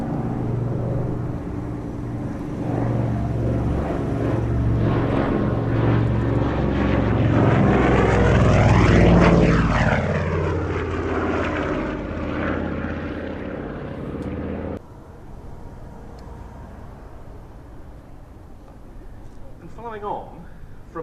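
Vintage propeller aircraft at the Shuttleworth air show, its engine drone rising loud as it passes near then fading, with a clear pitch sweep during the flyby; a voice speaks over it and the drone drops away abruptly toward the end.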